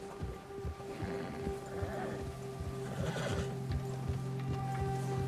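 A horse whinnies and snorts nervously near a bear in the Red Dead Redemption 2 video game, with a few restless neighs over a steady low game-world ambience and faint hoof shuffles.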